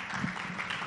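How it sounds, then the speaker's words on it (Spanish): An audience at a medical lecture on regenerative longevity gives the cardiologist speaker a brief burst of steady, dense clapping. "Otro fuerte aplauso para él"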